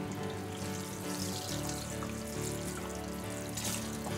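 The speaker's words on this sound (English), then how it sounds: "So we'll get some nice water in there." Water poured onto a tray of corn microgreens, a soft steady trickle and splash running for a few seconds at moderate, close range with no talking.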